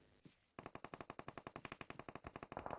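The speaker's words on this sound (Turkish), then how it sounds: "Bu nereden vuruyor? Abi bir yerden vuruyor." Automatic gunfire from a shooter video game rattles in one long rapid burst of evenly spaced, loud shots after a brief quieter moment.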